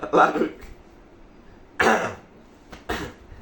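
Three separate coughs ring out close by, spaced over a few seconds, with quiet pauses between them.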